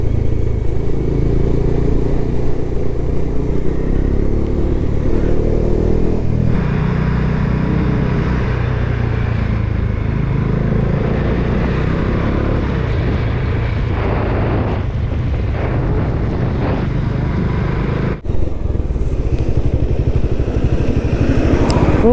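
Several motorcycles rumble steadily up close in a bike traffic jam near a dam on a hill ride from Kullu to Dharamshala, with constant engine drone and wind buffeting the microphone throughout.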